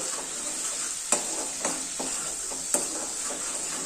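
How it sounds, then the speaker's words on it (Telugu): A mint rice mixture frying in a pan gives a constant close sizzle, broken by a few sharp scrapes and knocks as a spoon stirs it, with no talking. "ఆ పచ్చివాసన పోయేంత వరకు ఇది వేగాలన్నమాట"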